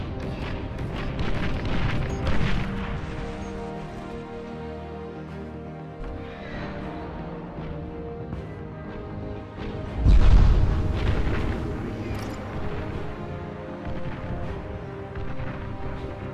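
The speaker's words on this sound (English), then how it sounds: "I can set it to bombardment and bombard over here" Artillery bombardment in the strategy game Beyond All Reason, deep booming explosions rumbling at intervals, one heavy thud standing out midway among softer distant blasts, layered over steady game music.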